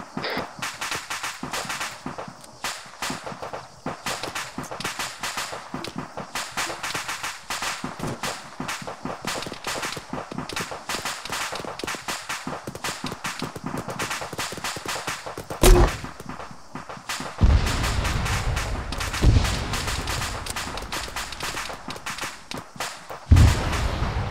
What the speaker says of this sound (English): we're going to hold here, give suppressive fire for 1-1 Charlie.